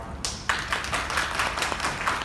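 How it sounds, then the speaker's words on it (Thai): An audience at a highway design project orientation seminar claps to welcome a speaker, with steady, dense clapping close and fairly loud after a short quiet start, and no talk. "ขอเสียงปรบมือต้อนรับ"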